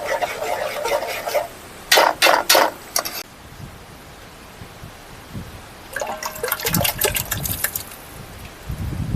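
Hot tempering poured into boiling Gujarati urad dal in a village kitchen: two loud bursts of hissing, splashing sizzle separated by a quieter bubbling stretch, close and with no talk.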